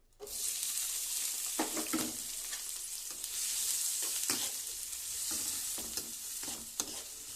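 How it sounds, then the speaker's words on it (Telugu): Thinly sliced onions fry in oil in a pan for a curry, giving a steady, close sizzle throughout. Scraping and stirring strokes are scattered over it, and no one talks. "తర్వాత ఆయిల్ వేసుకోవాలి. తగినంత ఆయిల్. తర్వాత ఇలా సన్నగా తరుగు పెట్టుకున్న ఉల్లిపాయ ముక్కలు"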